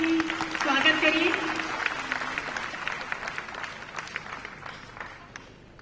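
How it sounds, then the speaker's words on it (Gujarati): An audience breaks into applause to welcome Smt. Anandiben Patel at the Pradhan Mantri Jan-Dhan Yojana launch in Ahmedabad. The clapping is dense and steady, swells early and then gradually thins out, with a voice over the start. "તાળીઓથી સ્વાગત કરીએ"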